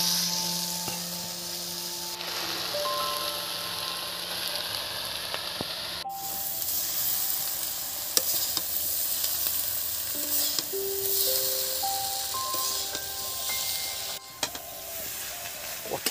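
Fried eggs dropped into a pan of brinjal cooking in oil, a steady soft sizzle with occasional stirring scrapes, continuous and fairly quiet, with a background tone.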